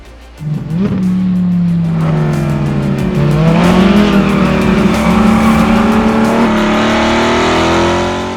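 A Chevrolet Corvette C8 fitted with a Borla exhaust revs hard and close, its loud engine note climbing and dipping in a sustained, rising roar.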